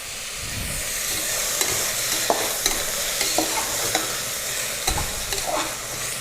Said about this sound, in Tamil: ஒரு நிமிஷம் நல்லா வதக்கிட்டு அடுத்து தக்காளியை போட்டுக்கலாம்.